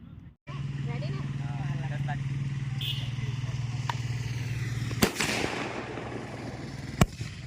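Two sharp Diwali firecracker bangs, a few seconds apart, pop over a steady droning engine-like hum in an open field.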